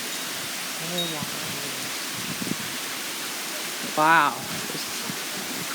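Very heavy thunderstorm rain pours down in a loud, constant hiss that fills the whole scene, while a person briefly exclaims over it twice.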